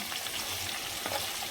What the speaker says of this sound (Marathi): इकडे तेल गरम करत ठेवलं आहे.